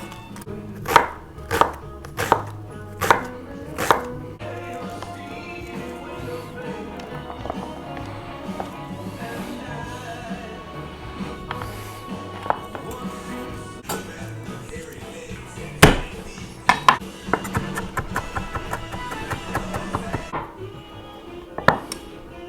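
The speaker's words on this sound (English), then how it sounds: "What better time than while you're trying to chop an onion" A knife chops an onion on a board with a quick run of sharp, loud strikes early on, then scattered clinks and lighter taps follow in a kitchen, with a voice talking faintly now and then.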